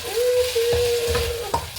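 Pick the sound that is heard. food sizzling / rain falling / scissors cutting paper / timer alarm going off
food sizzling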